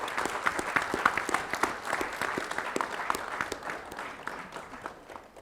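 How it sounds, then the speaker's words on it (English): Steady applause from an audience at an anti-tobacco awareness event fills the whole stretch, dense clapping holding at a moderate level with no speech over it. "That deserves a huge round of applause."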